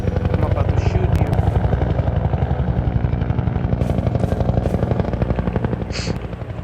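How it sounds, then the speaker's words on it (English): A Combine attack helicopter from Half-Life 2 thrums loud and close with a steady, rapid rotor pulse, gunfire-like bursts mixed in, while a voice talks over it and the roar eases slightly near the end. "the Combine attack helicopter. This chopper relentlessly destroys a player's cover, forcing them to move forward or risk being gunned down"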